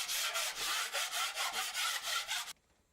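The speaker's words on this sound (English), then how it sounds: "take my 6-inch taping knife first and just quickly run over the surface area of the first coat of mud" A 6-inch taping knife scrapes over dried drywall joint compound in about nine quick, rhythmic strokes, each a close, raspy swipe, then stops abruptly into near silence.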